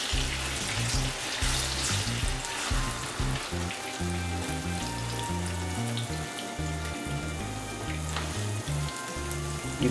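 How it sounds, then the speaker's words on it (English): Plantain slices fry in a hot skillet with a steady, close, busy sizzle and crackle that carries on without a break. "we're gonna put these plantains in and let them fry up"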